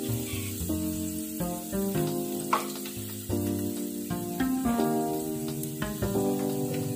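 Sliced shallots frying in hot oil for prawn croquettes, a dense, steady crackling sizzle with sharp pops and occasional stirring clatter, close and continuous with no voices.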